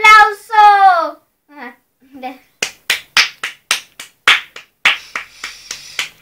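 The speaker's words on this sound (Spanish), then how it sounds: "aplauso!" A few people clap in a home scene: about a dozen separate, sharp claps in an uneven rhythm, close and fairly loud, following a short spoken phrase.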